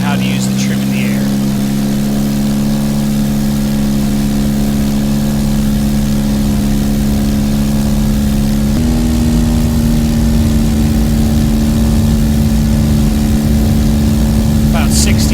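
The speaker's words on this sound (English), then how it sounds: "I'm going to release the brakes and add full power, and we're going to take off" Simulated light aircraft engine in a flight simulator game at full throttle for takeoff, a steady loud droning hum that holds constant with a slight pitch step midway, continuous and close throughout.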